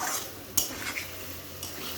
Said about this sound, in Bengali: এবার ভালোভাবে কিন্তু কষিয়ে নিতে হবে, মশলাটা যেন ভাজা ভাজা হয়